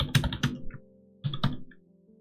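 A few quick key presses on a computer keyboard while a password is entered, arriving as two short clusters of close, soft clicks and taps separated by a brief pause.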